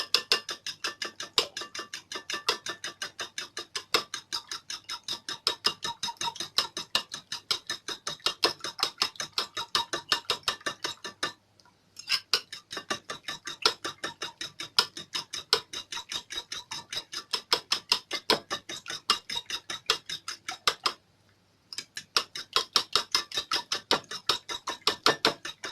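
Eggs being beaten with a whisk or fork in a bowl, a fast steady run of close, crisp clicking strokes with two short pauses, no voices.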